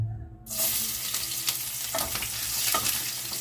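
Chopped garlic hits hot oil in a pan for a Filipino lechon paksiw, bursting into a loud, steady sizzle after a brief quiet start, with faint crackles and stirring scrapes running throughout.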